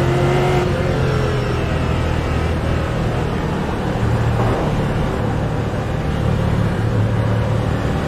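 Race cars in the Fanatec GT Challenge sim race at Sebring accelerate together at the green flag. A dense, steady roar of many engines fills the whole clip, with some rising revs and no voices.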